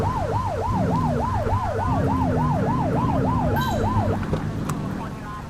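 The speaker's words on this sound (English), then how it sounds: "Get on their tail and flip the siren." Police car siren in The Precinct video game, a rapid rising-and-falling wail repeating about a dozen times over a low engine rumble, then cutting off as the vehicle noise fades.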